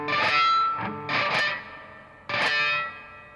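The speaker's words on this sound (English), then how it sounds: "So it would sound like this if I were to kill the note." Electric guitar with a distorted, effected tone: three choppy picked notes whose pinch harmonics fail because the thumb stays on the string, each cut short and dull with no squeal, alone.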